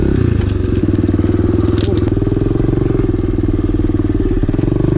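Loud, continuous rumble of a motorcycle engine while the bike rides through water, with gritty splashing and scraping layered over the drone and no clear speech.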